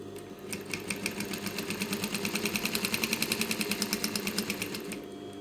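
A sewing machine runs steadily while stitching fabric, its rapid, even mechanical chatter close and continuous for several seconds with no talking over it.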